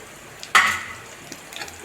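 Grated coconut and turkey berries are sautéed in a pan, with one sharp sizzling burst as they go in that fades into quiet faint crackle and scraping.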